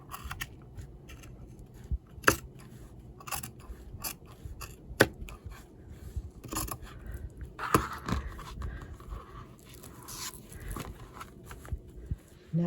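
Scissors trimming fabric for a handmade boho bag, a few sharp, separate snips scattered across a quiet stretch with faint handling noise in between.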